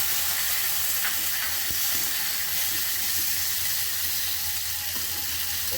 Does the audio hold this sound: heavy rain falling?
no